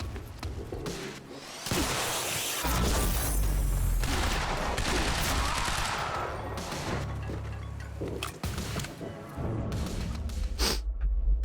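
Sustained bursts of gunfire from a Quantum Break firefight, loud and dense rapid shots with booming impacts, briefly dropping off before resuming.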